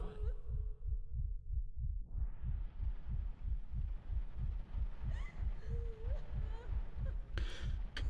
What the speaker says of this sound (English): this fucking heartbeat is so creepy